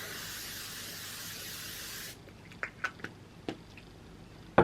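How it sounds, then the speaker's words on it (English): Setting spray mists onto a face in one steady, close hiss lasting about two seconds, followed by a few faint clicks and taps in a quiet room. "so I'm just gonna spray this all over my face"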